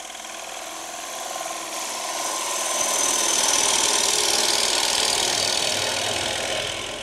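A bowl gouge sweeps in an arc through wood spinning on a lathe, giving a steady broadband cutting hiss over a low motor hum that swells a little midway and holds for several seconds, with no talking.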